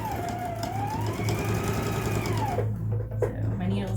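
Sewing machine top stitching a fabric face mask, its motor running at a steady close whir throughout, a tone that rises and falls with speed, and a brief pause near the end.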